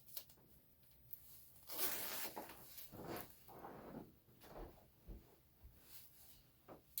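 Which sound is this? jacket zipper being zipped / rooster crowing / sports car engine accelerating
jacket zipper being zipped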